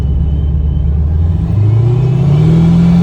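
A 2016 Camaro 2SS convertible with a Procharger and a failing transmission revs loudly up close, a deep rumbling drone whose pitch climbs steadily as the gearbox slips.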